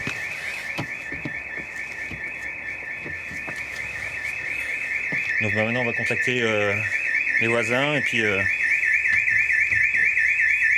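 A house burglar alarm wails nonstop with a steady, rapidly warbling electronic tone, loud and close, while someone speaks French over it partway through.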